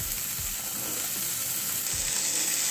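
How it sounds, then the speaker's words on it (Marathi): Boiled green peas sauté in spiced pav bhaji masala in a pan for dhaba-style pav bhaji. A steady, close sizzle runs throughout, with soft scraping stirs ticking underneath. "वाटाणेही छान असे परतवून घेऊ आपण."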